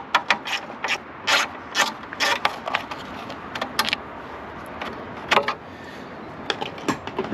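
A ratchet clicks in quick irregular bursts while undoing the bolt that holds a VW Touran seat base, close and fairly quiet.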